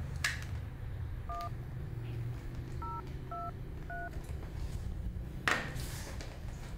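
A telephone keypad beeps out a short sequence of dialing tones while a call is transferred, five crisp separate tones spaced over a few seconds against a quiet room background.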